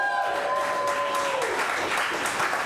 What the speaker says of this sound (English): give them a massive round of applause here